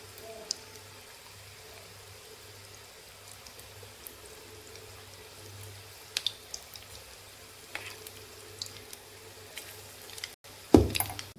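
Bhaji fritters of gram-flour batter drop into hot oil in a kadhai and fry with a soft, continuous sizzle, broken by scattered pops and a louder clatter near the end.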